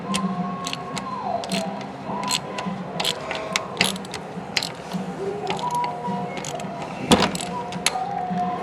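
A ratchet wrench loosens a bolt to slacken an AC belt, giving rapid close clicking and ratcheting in irregular bursts against a steady mechanical background.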